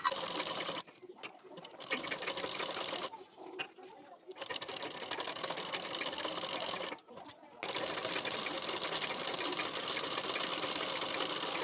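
A sewing machine stitches blouse fabric for a boat neck blouse, running in a steady, fast mechanical whir that stops briefly a few times before resuming.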